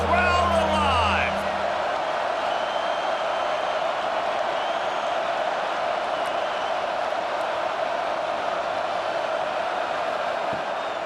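A stadium crowd roars steadily and loudly during a Texas Tech vs. Utah college football game before a third-down red zone play. A brief voice cuts in at the start, then the broad crowd noise holds throughout.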